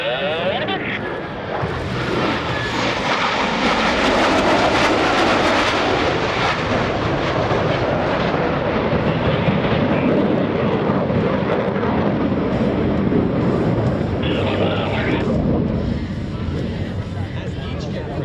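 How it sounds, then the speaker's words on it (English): US Navy Blue Angels jet aircraft accelerating at an air show in New York, a loud continuous roar that swells and holds steady throughout, with a voice talking over it. "as each aircraft accelerates, reversal turn back toward the flight line."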